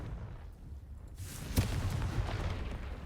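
A Confringo fire spell blasts in Hogwarts Legacy, a sudden boom at mid-clip followed by a rumbling, crackling burst of explosive noise that lingers over low ambient game sound.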